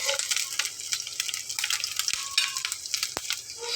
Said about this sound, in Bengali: একদম ভাজা ভাজা করে ফেলবো।